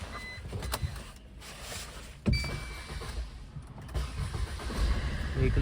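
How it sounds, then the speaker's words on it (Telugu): A 2018 Maruti Vitara Brezza VDI diesel starts on a single crank, preceded by brief clicks and whirs, then settles into a steady near idle. "వెహికల్ సింగిల్ సెల్ఫ్లో అయితే స్టార్ట్ అవుతుంది."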